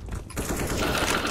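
Gunfire in the shooter game CS:GO, a quick run of rapid, faint shots rattling in a short burst with the sound of the match around it.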